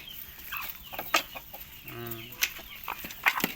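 Black-tailed Pradu Hang Dam breeder chickens, eight hens and two roosters, cluck and murmur close by in a busy coop, with scattered sharper calls and a brief rising call midway.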